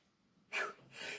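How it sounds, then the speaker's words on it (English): A single sharp sneeze, preceded by a short quiet intake of breath, followed by a breathy exhale, close and alone. "Oh, God, I have to sneeze."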